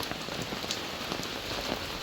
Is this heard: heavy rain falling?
yes